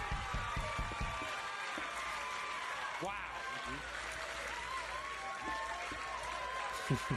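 A comedy club audience applauds loudly and steadily, dense clapping with cheers mixed in, continuing throughout without a break.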